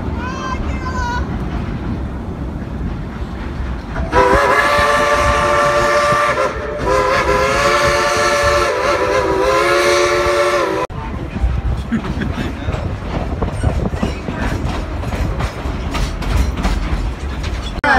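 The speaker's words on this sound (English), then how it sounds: "We'll try and get on the train now" A train clatters loudly nearby at Dollywood while its horn blasts in two long, harmonically rich blows; rhythmic clacking of wheels continues afterward with people talking.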